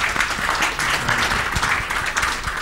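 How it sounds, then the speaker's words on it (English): Audience applause for the panelists at a Digital India panel event on electronic commerce and service delivery: steady, dense clapping from a crowd, fairly loud and continuous throughout, with no one speaking over it. "Please can you everybody give a big round of applause to our panelists."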